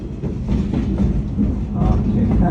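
Passenger train rolling on rails from Jersey City, a steady low rumble with faint rhythmic clatter throughout, close and continuous, with people's voices faintly mixed in.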